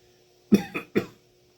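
Three quick coughs in a row, close and fairly loud, with short pauses between them and silence around.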